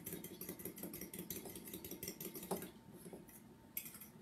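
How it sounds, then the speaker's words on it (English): Eggs whisked in a bowl with a utensil, giving a rapid, steady run of clinking taps against the bowl, moderately close, that pauses briefly near the end and then resumes. "we're whisking two eggs right now"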